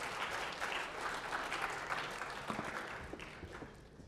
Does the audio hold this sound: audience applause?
yes